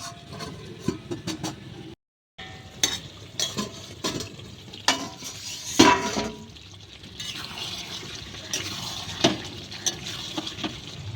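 Potol and shrimp curry stirred in a pan with a spatula, giving faint intermittent scraping and soft sizzling with brief clinks over a quiet kitchen background.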